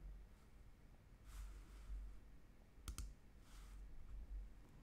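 Two quick, sharp computer mouse clicks land close together near the middle, with faint soft tapping around them against a quiet room.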